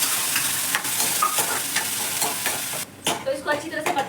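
A ground paste of onion, tomato, garlic and ginger is stirred as it fries in a hot pan, giving a steady loud sizzle with scraping stirs. It drops briefly, then returns as sharper spattering crackles.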